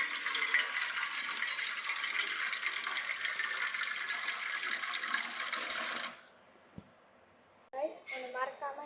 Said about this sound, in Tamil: கைஸ், நம்ம தண்ணி பிடிச்சிக்கலாம்.